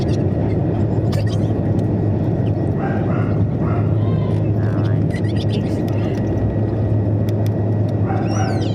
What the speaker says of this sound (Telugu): ఫ్లై అవుతుంది ఫ్రెండ్స్ మా ఫ్లైట్